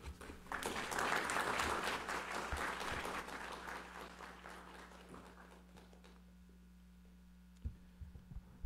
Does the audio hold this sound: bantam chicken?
no